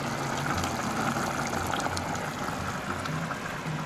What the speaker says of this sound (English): So I'm adding boiled water.